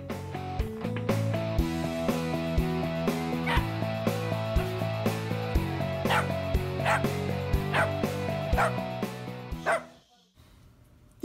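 A 12-year-old terrier mix barks, yips and whimpers in quick repeated bursts over steady background music, loud and close, before the music cuts out near the end.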